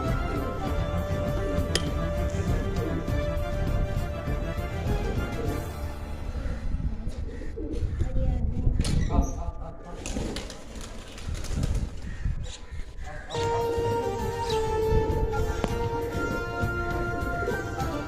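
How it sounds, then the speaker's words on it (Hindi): Pigeons coo softly and repeatedly nearby, with a bit of wing flapping amid a busy background hum. "ये बहुत अच्छे और प्यारे कबूतर है इनके, ज़बरदस्त कबूतर है।"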